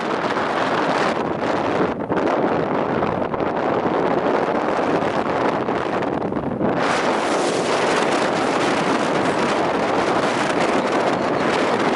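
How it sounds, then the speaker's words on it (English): Strong 30-40 mph wind buffeting the microphone while bass fishing on a boat in the Central Delta, a loud, continuous roaring rush that fills the whole stretch. "We had 30-mile-an-hour winds."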